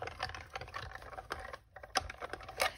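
A die-cutting machine presses dies through dare2bArtzy paper held down with washi tape, giving a close, rapid run of crisp clicks and crunchy taps with short pauses.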